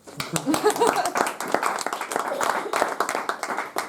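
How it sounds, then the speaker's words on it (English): A room full of people at a debating competition claps in a dense, steady patter of applause, with some voices mixed in underneath. "You can applaud."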